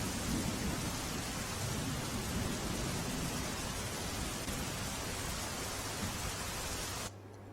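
Heavy downpour with thunder over Kapardi village in Gadhada taluka, Botad district, Gujarat, flooding the market streets: a dense, steady roar of rain with low rumbling underneath, loud and continuous, easing abruptly at the very end.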